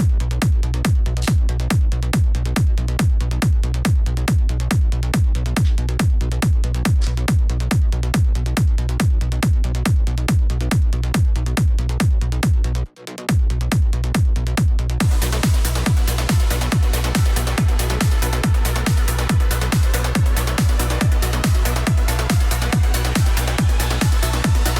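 Full dance-music mix with parallel compression, a loud, punchy steady kick pulse driving under dense chugging synths, with a brief dropout near the middle before brighter layers join in the second half.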